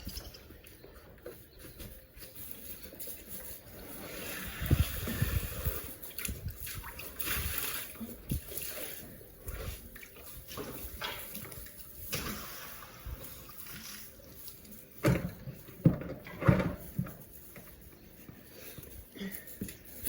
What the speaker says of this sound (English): So I'm just going to empty the water now.